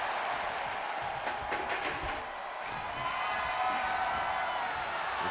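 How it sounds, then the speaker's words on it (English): Crowd in a wrestling video game cheering and roaring as a steady, loud wash throughout, with a few sharper whoops and bursts rising out of the din. "really feeding off this crowd."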